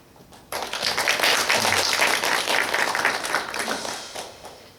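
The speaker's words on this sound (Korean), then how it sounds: "우리 박수로 한번 축하 격려했으면 좋겠습니다." A church congregation claps for its Sunday school and youth teachers: applause bursts in abruptly, holds as a full, lively wash of many hands for several seconds, then thins out toward the end.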